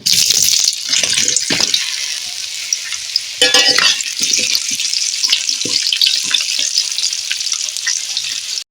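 Potatoes frying in hot oil with cinnamon and a bay leaf, a loud close hissing sizzle that surges sharply as the pieces go in and then crackles on steadily.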